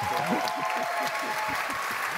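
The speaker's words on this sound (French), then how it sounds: "Applaudissez Guillaume et Jeanne qui sont là." A live audience in Rennes applauds Guillaume and Jeanne at a national science-talk final, with steady clapping filling the hall and a voice speaking over it.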